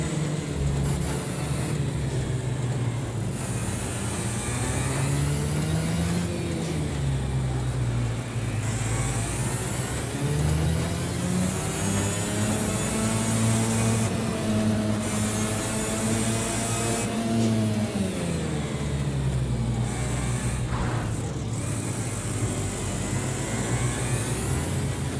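Kart engine from a career-start kart race in the video game Project Cars 2, droning steadily and loud throughout, its pitch rising and falling with acceleration and braking through corners, with no voices.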